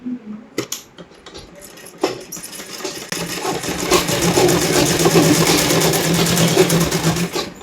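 A sewing machine stitches a folded salwar hem, starting with a few scattered clicks and taps and then settling into a loud, continuous mechanical whirr of rapid stitching.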